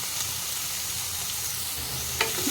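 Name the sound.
onions frying in a pan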